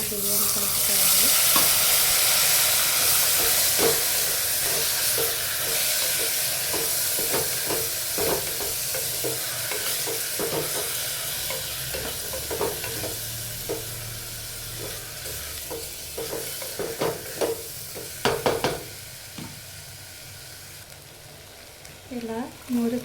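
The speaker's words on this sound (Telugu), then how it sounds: "ఇలా ఒకసారి కడిగి పెట్టుకున్న బియ్యాన్ని కలుపుకోవాలి." Washed rice is stirred into mint rice in a sizzling pan, with steady frying hiss under continuous scraping and stirring strokes that grow more distinct toward the end.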